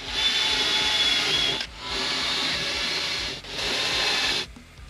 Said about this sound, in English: I can drill through this spacer into the case